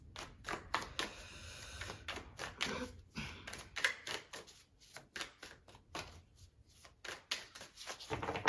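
Tarot cards being shuffled and drawn by hand, a run of crisp riffling flicks and soft slaps close by, pausing briefly midway before more quick card snaps resume.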